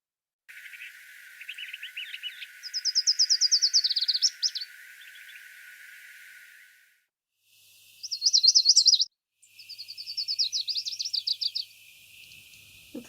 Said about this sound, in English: So I wanted to quickly play you a song of Lucy's Warblers